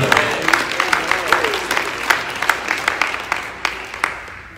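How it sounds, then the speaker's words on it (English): Church congregation claps during a sermon in praise, a loose rhythmic pattern of distinct hand claps with some voices and murmuring underneath, thinning toward the end. "Clap your hands and give him some praise"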